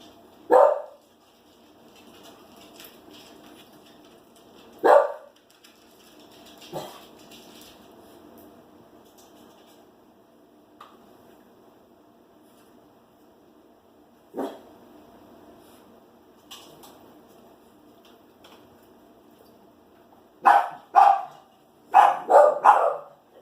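Dogs indoors at home barking in short separate bursts, with a single loud bark, a pause, then a rapid cluster of barks near the end, fairly close.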